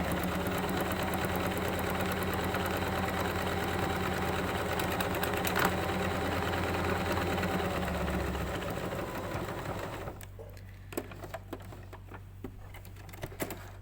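A sewing machine stitches a buttonhole, a fast, steady mechanical whir that runs loud and even for most of the time, then stops and gives way to faint clicks and handling sounds.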